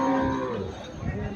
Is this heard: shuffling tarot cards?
no